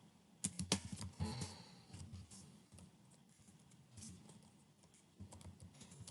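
Keys clatter on a computer keyboard in quick, uneven bursts, loudest early on and then trailing into lighter scattered taps, close to the microphone with no talking.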